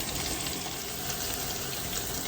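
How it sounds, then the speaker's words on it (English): Masala roasting in hot oil for a mutton biryani gives a steady, soft sizzling hiss, close and continuous without pause or talk. "our masala is getting roasted in the oil"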